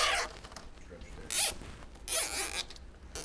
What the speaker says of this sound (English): let's go ahead and button up our cables here. A couple of zip ties.